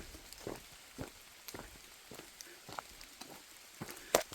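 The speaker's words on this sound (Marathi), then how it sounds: "पावसाचा जोर थोडासा वाढला आहे" Rain falling through forest on a mountain ghat trail, a soft steady patter with scattered louder drop hits and gentle rustling, heard close and fairly quiet.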